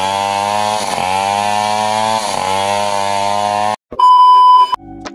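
A chainsaw engine runs loud and steady with a buzzing harmonic drone that wavers in pitch, cuts out abruptly, then returns in two shorter revving bursts.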